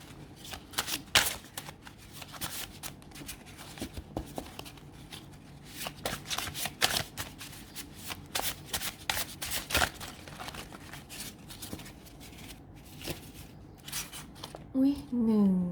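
Tarot cards are shuffled close up in quick, papery riffles and slaps, repeated in bursts throughout, with a voice speaking softly near the end.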